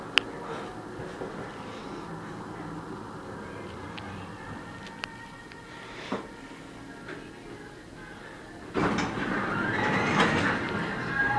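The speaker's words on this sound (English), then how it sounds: "Close the door by itself." An elevator door in a Macy's store slides closed on its own, a steady rolling rumble ending in a louder thud and shift of noise near the end, close by with no talk.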